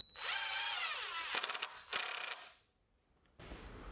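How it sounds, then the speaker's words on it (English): A power drill drives a screw into a wooden dowel of an outdoor towel rack, whirring steadily at close range, then ratcheting in brief bursts before stopping, followed by faint handling noise. "I'm putting in one screw on each one of these dowels"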